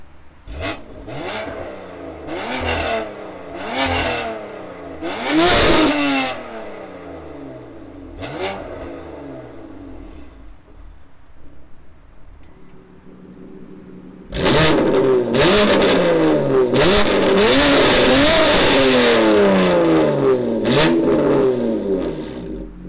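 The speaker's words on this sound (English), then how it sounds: "I must say the exhaust sounds pretty impressive." BMW M3 Competition exhaust being revved: a series of sharp blips and rising-falling revs, a quieter lull near the middle, then a long loud sustained run of hard revving, close and alone with no voices.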